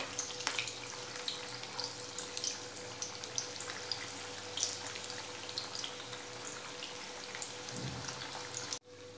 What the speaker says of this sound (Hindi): गरम तेल में हम हमारे ये साबूदाने वड़े को धीरे धीरे छोड़ देंगे और थोड़ा मीडियम आँच पर हम इसे पका लेंगे सुनहरा होने तक.